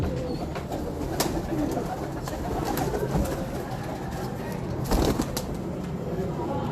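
Pigeons kept by a pigeon fancier coo amid steady outdoor background noise, with a few sharp bursts that may be wing flaps, all fairly close and continuous.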